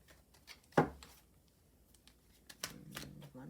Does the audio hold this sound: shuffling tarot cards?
yes